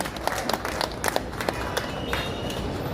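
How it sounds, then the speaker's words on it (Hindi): Crowd applause welcoming guests at a prayer gathering in Patna's Haj Bhavan, dense clapping with sharper individual claps standing out over a roomy, noisy hall. "एक बार फिर से आप तालियों से इनका इस्तक़बाल करें।"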